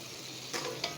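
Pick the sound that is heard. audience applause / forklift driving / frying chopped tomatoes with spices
frying chopped tomatoes with spices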